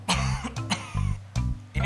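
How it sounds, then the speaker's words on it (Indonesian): A person coughing and clearing their throat, several harsh close coughs in quick succession with short gaps between them, loud and near. "udah 3 hari nih gue batuk nggak sembuh-sembuh"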